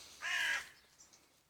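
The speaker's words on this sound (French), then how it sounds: "Il y a plein d'oiseaux qui ressortent parce que je suis plus en train de chasser." A single harsh crow caw rings out nearby, followed by faint, distant bird chirps in a quiet outdoor setting.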